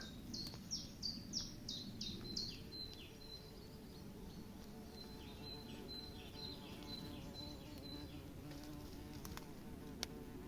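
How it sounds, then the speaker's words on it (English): A large bee buzzes close by in a low, steady drone on a disused railway trail in Derbyshire, with a few bird chirps near the start and a quiet outdoor background. "Big old bee."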